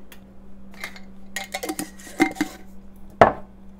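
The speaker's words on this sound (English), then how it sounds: "Try to crumble it up in there as I'm mixing." A spoon stirs dehydrated celery into a spaghetti squash and zucchini dish, with irregular clinks and scrapes against the pan or bowl and a sharp clack near the end.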